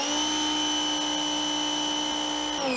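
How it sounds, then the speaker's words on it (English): A pressure washer fitted with a 4.0 nozzle runs steadily and loudly close by, a constant motor whine with stable tones throughout and a slight shift in pitch near the end. "With the pressure washer running,"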